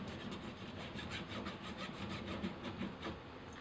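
Hand saw cutting through material during a home plumbing job, a rhythmic back-and-forth rasp of repeated strokes, close and moderately quiet, with no voices.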